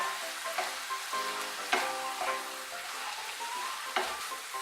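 Poppy seed paste for palong posto mixed in a hot pan, a low steady sizzle broken by several spatula scrapes and taps, unhurried and without talking.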